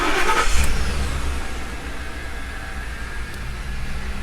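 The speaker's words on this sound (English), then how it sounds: "Now let's give it a try on the starter." A Ford Expedition or F150 engine starting after an ignition lock cylinder replacement, a brief crank that catches and settles into a steady, close idle hum, with no voices.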